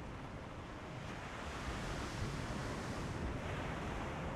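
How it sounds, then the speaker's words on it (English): Ocean waves wash and wind blows in a steady, broad hiss from the video game Divinity: Original Sin 2, a continuous surf ambience with gentle swells and no voices. "The sun's light plays upon the waves, just as it always did."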